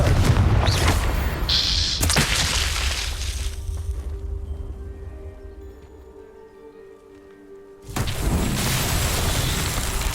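Confringo explosion spells cast in Hogwarts Legacy: a loud fiery blast at the start fading into a quiet ringing tail, then a second sharp burst erupting near the end.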